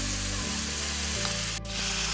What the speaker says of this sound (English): I just added my garlic butter and my thyme, and the thyme got fried